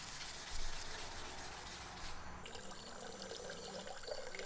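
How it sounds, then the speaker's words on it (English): A forged knife blade is sanded by hand, a steady rasping rub of abrasive on steel with a brief pause partway through, fairly quiet and close, with no one talking. "It took, I believe, around 2 hours of hand sanding to get both sides done."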